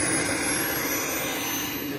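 A Viper RC model jet, back in the air after repairs, holds a steady, loud turbine whine and roar throughout, with a high thin tone running above the broad rushing noise.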